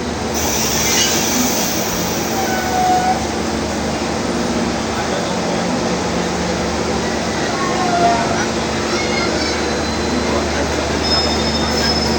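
The Pandanwangi passenger train in East Java rolls steadily along the rails, a constant loud rumble with faint squeals and clatter, heard from inside the carriage.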